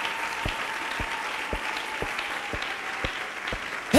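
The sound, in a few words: church congregation applauding and cheering for Jesus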